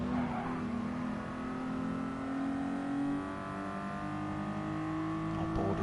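In a racing video game, a 1990s classic race car engine from the N300 league revs on the Alsace Village Circuit, its tone rising and holding with steady harmonic whine, faint and continuous with no talk.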